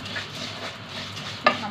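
Rice being fried in oil in a pot gives a low, steady sizzle under soft stirring, ending in one sharp clink of a utensil against the metal.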